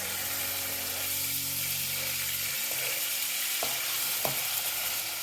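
Tofu frying in a pan for a homemade pad Thai, a steady, close sizzle that runs the whole time, with a couple of brief clinks near the end.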